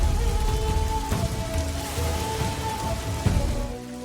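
Steady rain falls on a surface in a dramatic scene, heard as a dense, close patter. A few louder drops or thumps stand out and no one speaks.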